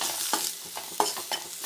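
Masala with turmeric and garam masala for a Kerala-style kadala curry is sautéed in a pan, a soft sizzle under rhythmic scraping stirs of a spoon, heard close with no talking.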